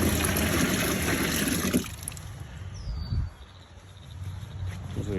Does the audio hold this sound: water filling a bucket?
yes